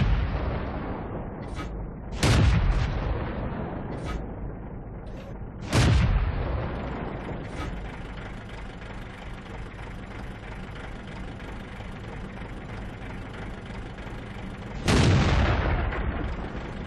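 Tank cannon shots in World of Tanks on the Highway map: three heavy booming blasts spaced several seconds apart, each with a long decaying roar, over a constant engine drone.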